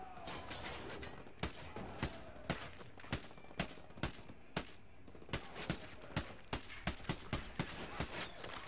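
Video game gunfire rattles through a battle for a tower near a helicopter, with rapid bursts of sharp shots and dense automatic fire repeating across the clip, fairly faint and without talk.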